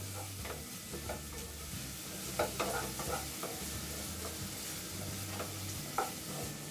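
Chopped onion sautéing lightly in oil in a pan, a faint, steady sizzle with occasional soft spatula scrapes and stirring taps, no talking.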